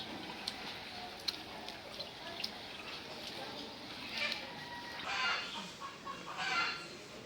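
A hen clucks in bursts after laying an egg at a moderate distance, sharper cackles rising toward the end over a soft outdoor background.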